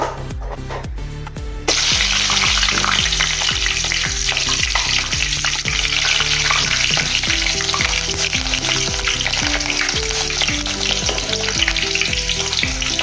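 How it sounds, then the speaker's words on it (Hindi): Green chillies drop into hot oil after a batch of besan pakoris and set off a loud, continuous deep-fry sizzle that starts abruptly and holds steady with small bubbling pops throughout. "ये देखिए अभी हम हरी मिर्च तलेंगे।"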